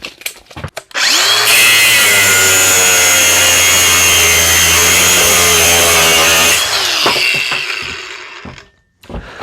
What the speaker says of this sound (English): let's go ahead and cut through this bolt and see how it fares